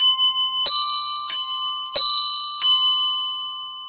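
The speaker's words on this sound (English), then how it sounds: "So we have two bells." Four clear, bright strikes of hand bells on an instrument tree ring out one after another at an even pace, each tone sustaining and overlapping the next, close and loud with no talking.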